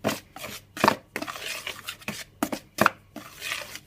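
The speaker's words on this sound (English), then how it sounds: "I'm going to add the sugar now and stir that through with a knife" A knife stirs sugar through scone mixture in a bowl, with several separate sharp scrapes and taps against the bowl between quieter rustling of the dry mix, close by.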